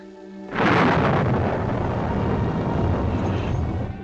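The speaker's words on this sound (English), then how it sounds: "When the storm lets up and the roads are passable." Thunder from a storm in a 1946 film breaks in suddenly after a brief quiet lead-in, a loud, sustained rumbling roar that holds for several seconds before easing slightly.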